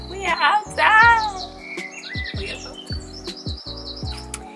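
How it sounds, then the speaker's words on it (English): Birds chirp and twitter outdoors on a spring day, bright repeated calls near and loud at first, then lighter tweets continuing while a person talks underneath. "Yes, but the birds"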